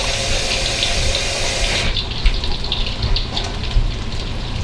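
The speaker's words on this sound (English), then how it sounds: "Let me wash my hands while you're watching that." A kitchen tap running steadily while hands are washed, a loud close rushing of water whose spray softens partway through.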